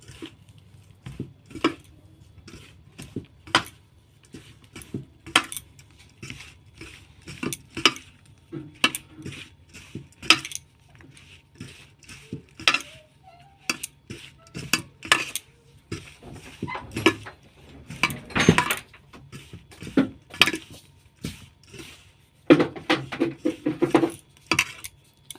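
Hands mixing and kneading biscuit dough with ghee and oil in a bowl, close irregular squishing, patting and scraping knocks with quiet gaps between, spread over the whole stretch without talking.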